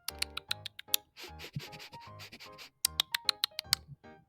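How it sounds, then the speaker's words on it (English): A rabbit nibbles on food and carrots in quick, crisp bursts of crunching and scratching, close and fairly quiet, with short pauses between the bites. "As they're nibbling on their food and their carrots."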